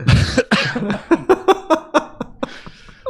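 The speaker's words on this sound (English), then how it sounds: "I coughed." A string of sharp, close coughs in quick succession from one person at home, the bursts tapering off into softer throaty sounds near the end.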